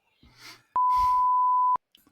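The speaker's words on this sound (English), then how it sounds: "I'm beeping it out." A single sustained censor beep, a pure steady tone lasting about a second, cutting over speech that surrounds it.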